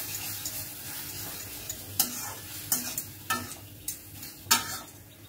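Chickpea masala with chopped tomato stirred in a hot pan, a steady low sizzle of frying spices broken by several sharp scraping clinks of the spoon against the pan, close and alone with no voices.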